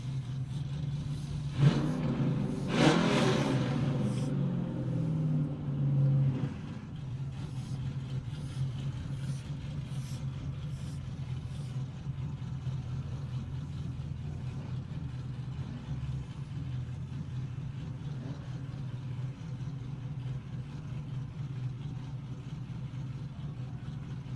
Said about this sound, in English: The turbo build up on the Fairmont.